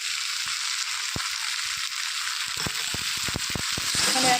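Spiced masala with ground cumin sizzling steadily in a pan for Bengali parshe fish chorchori, a constant hiss with a few sharp pops and ticks of stirring building toward the end.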